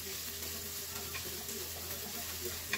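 Ingredients sauté in a pan for a Filipino chicken bone soup, making a soft, continuous sizzle and crackle at low volume, with no voices.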